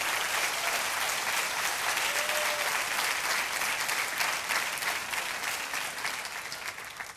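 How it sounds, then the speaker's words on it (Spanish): A church congregation applauds during a sermon, with a steady, even wash of many hands clapping throughout and slowly easing off near the end. "Dele el aplauso porque está claro."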